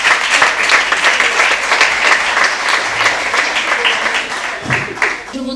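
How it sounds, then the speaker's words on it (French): Dense, steady applause from an audience at a women's awards event fills the whole stretch, loud and even, with a brief voice or cheer poking through near the end. "Ensuite, nous avons Madame Jane Libizangomo, s'il vous plaît. Applaudissez"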